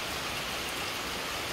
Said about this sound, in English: And I'm sorry that rain is probably overpowering me